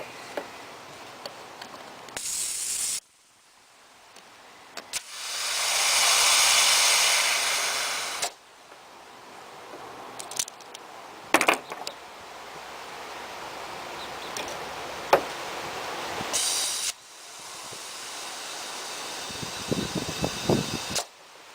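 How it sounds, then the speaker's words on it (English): An air pump inflates a flat lawn mower tire in bursts, giving loud hissing rushes of air with gaps between them, along with clicks and clacks from the pump and valve fitting. "let's pump it up again"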